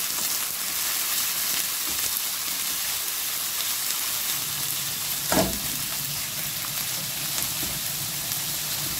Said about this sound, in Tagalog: Paghalo-haloin po natin